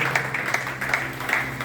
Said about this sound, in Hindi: श्री ईश्वर मान जी, जोरदार तालियां चाहूंगा